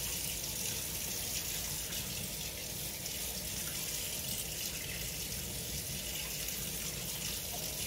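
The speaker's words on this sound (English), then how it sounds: "So I'm gonna turn the water on" Water pours steadily from a tap into a sink, a constant broad hissing splash with no pauses and no voices.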